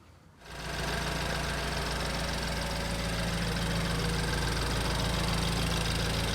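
A BMW Z4 with a swapped-in N20 engine catches after a short quiet moment and settles into a loud, steady idle with a constant low rumble and mechanical clatter, running alone without voices.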